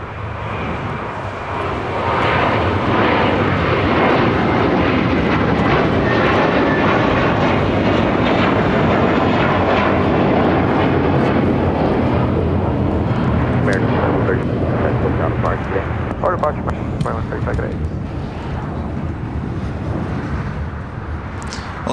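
Airliner taking off at LAX, a loud sustained jet engine roar that swells and holds for about twenty seconds before easing slightly, with a broad rushing rumble and some distant background sounds.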